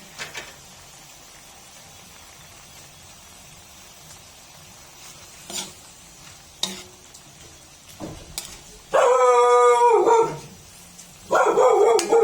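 Quiet kitchen sizzling with a few clicks while cooking sinigang na isda, then a dog barks and howls loudly in two bursts near the end, close by.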